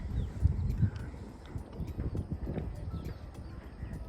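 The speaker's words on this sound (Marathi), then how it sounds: "जंगली घोडा आहे का पाळीव घोडा माहीत नाही पण घोडा आहे इकडे" Horse hooves clip-clop in a steady, uneven rhythm on hard ground, fairly close, with faint outdoor ambience.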